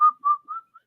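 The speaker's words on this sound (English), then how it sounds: "Whistle while you work." A person whistling a short melodic phrase of four clear notes, close and alone with no other sound.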